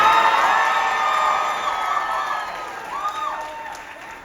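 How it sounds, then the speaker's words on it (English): A wedding audience at a Vivaah Sanskar cheers, whoops and claps in a sustained burst, with excited voices rising over the clapping before the noise gradually tapers off. "Please give my wife a round of applause"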